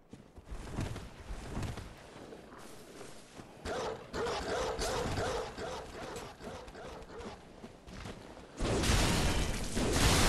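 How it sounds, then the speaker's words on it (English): Snarling beast dogs from the video game Bloodborne growl, yip and whimper in bursts over dense game ambience, with a louder surge near the end. "Snarling beasts."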